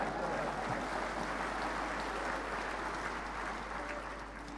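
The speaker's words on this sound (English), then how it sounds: "Clap your hands right there." A large audience at a leadership conference in Fiji claps together in a steady, moderately distant wash of applause, with a low constant hum underneath and no one speaking.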